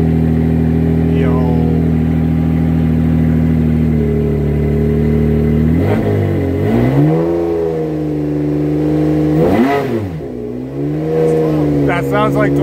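A Ferrari 599XX EVO V12 engine revs up and down in several deep, rising bursts, loud and close, with a steady low idle rumble between the revs.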